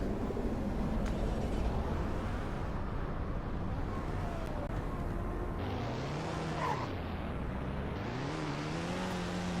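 A car engine starts up in the Roblox game Greenville, then settles into a steady, fairly loud running hum. A rising and falling engine tone follows later, with no talk.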